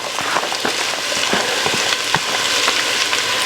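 Two large chopped onions frying in a pan for smoked truck stop chili, a loud, dense sizzle with sharp pops and crackles scattered throughout, close and unbroken, no talking.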